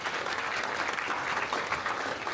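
A room of guests at a startup networking evening applauds Sharon, giving steady, fairly loud clapping that continues evenly for the whole stretch.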